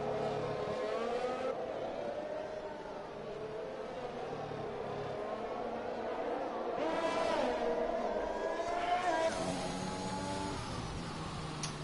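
F1 2021 race car on its outlap at Mexico, a steady engine drone with rising and falling pitch as it revs through gears, moderately loud and continuous, with a commentator's voice over it.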